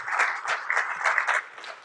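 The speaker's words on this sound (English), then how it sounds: "give a warm round of applause for all the sponsors" Audience applause at a live convention and expo, a steady wash of clapping with slight swells, fairly close and filling the whole moment with no voices over it.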